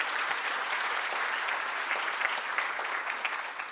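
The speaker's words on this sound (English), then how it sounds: "our agri workers who are here this evening deserve another special round of applause" An audience at an agricultural awards gala dinner gives agri workers a sustained round of applause, dense, even clapping filling the room from start to end with no talk over it.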